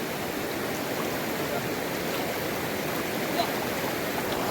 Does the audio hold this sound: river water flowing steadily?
yes